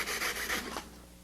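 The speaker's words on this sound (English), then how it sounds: "Remove the majority of the material in a hurry with the knife." A knife cutting and trimming foam during aircraft composite construction, a brisk rasping rub in a few quick strokes that stops partway through, then quiet.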